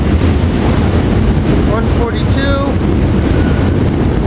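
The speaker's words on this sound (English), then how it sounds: "We got Doylestown train 6576 coming in" Commuter train rolling into 30th Street station during rush hour, a loud continuous rumble with wind buffeting the microphone and brief high squeals, while a voice talks over it.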